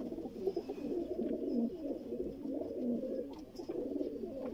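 Pure Sialkoti pigeons kept as breeding pairs coo steadily in soft, low, throaty rolls, several birds overlapping close by in a quiet setting, with faint chirps above.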